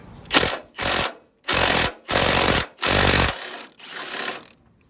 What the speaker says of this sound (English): So, just gonna put the impact on it.